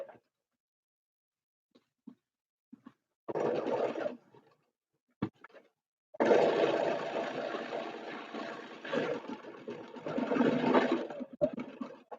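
A home sewing machine stitches a paper-pieced Snail's Trail quilt block in quick bursts: a short run, a pause with small clicks and handling, then a longer steady whirring seam that stops and restarts briefly, close and moderately quiet.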